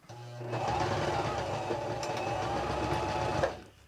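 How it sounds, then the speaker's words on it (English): A sewing machine runs steadily for about three seconds, stitching a small fabric mini stocking ornament, with a continuous close, loud whirring motor sound that stops abruptly at the end. "We are done with the sewing."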